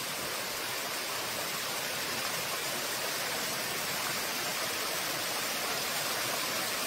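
Steady roar of the Cascades de la Pissevieille waterfall, a wild falling-water cascade, heard as dense continuous broadband rushing that stays even and loud throughout, with no voices.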